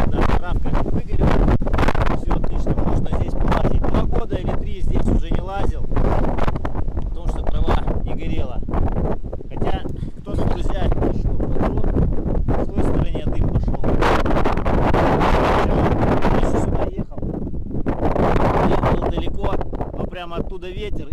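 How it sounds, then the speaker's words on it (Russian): Strong wind roars and buffets the microphone almost constantly over burnt grassland, a loud rough rumble with brief lulls. "Погода ветреная"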